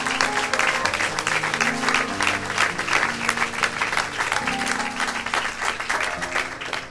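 A church congregation gives a steady round of hand clapping, dense and continuous throughout, with sustained organ or keyboard tones underneath.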